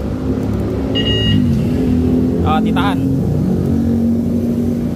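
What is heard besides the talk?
motorcycle engine started with alarm remote starter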